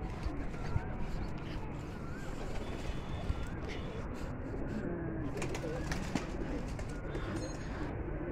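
Wild pigeons cooing outdoors, soft repeated coos drifting over a constant rushing background of wind or ambient noise, with faint bird calls scattered through.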